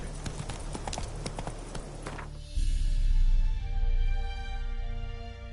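Roach, the horse in The Witcher 3, gallops with rapid, rhythmic hoofbeats that shift from a lighter patter into heavier, louder pounding over a low rumble, continuing steadily throughout.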